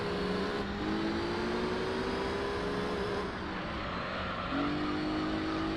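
A Renault Clio's engine in Gran Turismo 3, driven without its turbo, drones steadily at high revs. The pitch climbs smoothly through the gears, with brief dips at each shift, and no voice over it.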